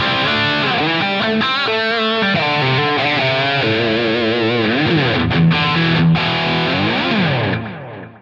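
An electric guitar runs through a Line 6 Helix with heavy distortion and effects, playing loud sustained chords and melodic lines for several seconds before fading at the end.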